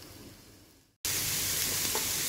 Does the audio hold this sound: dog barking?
no